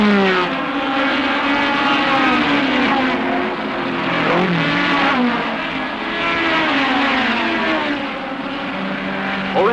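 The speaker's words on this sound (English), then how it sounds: "Hobbs, Brian Robinson in the Cortina, and the two Works Mini Coopers as they go up into Druids for the first time." Saloon race cars from the 1968 British Saloon Car Championship, including works Mini Coopers and a Cortina, climb up into Druids, their engines droning loudly together in overlapping, shifting tones with no pause throughout.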